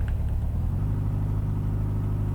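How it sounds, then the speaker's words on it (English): A car engine idling in the game Life in Nature, a steady close low rumble that holds evenly throughout with no talking. "The engine catches and settles into an idle."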